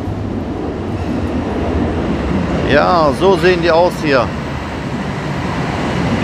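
A Düsseldorf U79 subway train arrives at a station, a steady, loud rolling rumble that persists throughout while someone briefly speaks midway.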